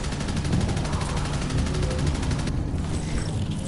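Heavy rockets and weapons firing at the Enforcer in the VR shooter Archangel, a dense, continuous barrage of loud rapid gunfire and rumbling blasts with no pause, easing slightly toward the end.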